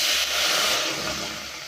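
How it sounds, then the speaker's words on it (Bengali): Water poured into a hot pan of briefly fried dried fish sets off a loud, close, steady steaming hiss that fades slightly toward the end, with no talking. "এখন এখানে একটু পানি দিব"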